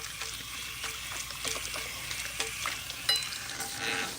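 Running water rinsing through hair and over the scalp during a scalp treatment, a continuous splashing, crackling hiss with small irregular bursts, close and fairly loud, no talking.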